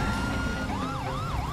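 Police car siren in GTA 5, a loud wailing tone sweeping up and down in quick cycles over a rumbling engine bed, continuous and close, no speech.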